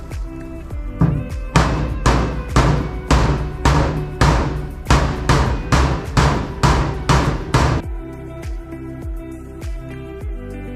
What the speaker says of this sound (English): I'm gonna use the hammer, see if I can just kind of get most of that out.